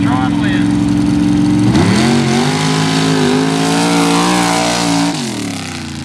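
A small-block Chevy hot rod drag car, one of the smallest motors in its class, revs loudly and close by with a touchy throttle. The engine note rises and falls in quick swells over a constant loud rumble.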